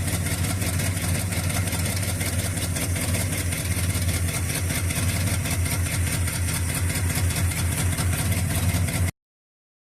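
A car engine cranks continuously with an uneven, pulsing mechanical churn, loud and close throughout before cutting off abruptly near the end.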